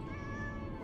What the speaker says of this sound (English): The cat is purring.